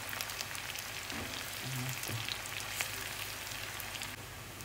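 Garlic, shallots and chili frying in a pan while being stirred: a dense, steady sizzle with soft scraping stirs underneath, held close and even throughout without talk.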